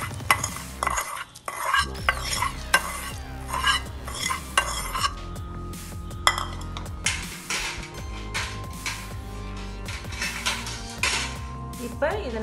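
Pazhaya sadham, old fermented rice with a tempering of mustard seeds, urad dal, dried chillies, curry leaves and asafoetida, is mixed vigorously with a metal spoon, giving repeated close clanks and scrapes against the vessel alongside a soft sizzle.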